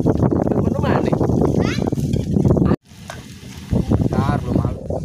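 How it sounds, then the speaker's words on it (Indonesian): Cassava balls frying in hot oil, a steady sizzle running under lively overlapping chatter from several people, with a brief cut partway through. "Setelah sudah bulat, kita goreng"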